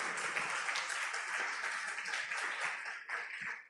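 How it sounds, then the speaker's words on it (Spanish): An audience applauds at a church talk, a dense wash of clapping that holds steady for a few seconds and then thins out near the end. "Dale un aplauso."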